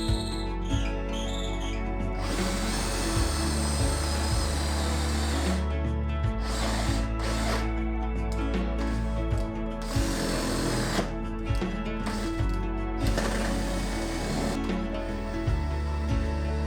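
A power drill whines loudly in repeated bursts, its motor pitch shifting as it bores through wood, with brief pauses between runs.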